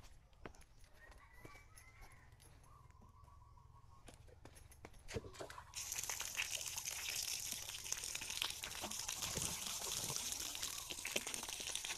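Clean filtered water running from a tap after treatment for alum-contaminated well water, a steady broadband rush starting abruptly midway and continuing loudly to the end, with faint rooster and fowl calls in the background before it.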